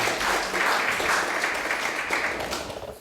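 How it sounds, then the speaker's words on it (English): An audience at a Sunday class claps together, a loud, full round of applause close by that gradually tapers toward the end. "Let's give a round of applause for this wonderful world."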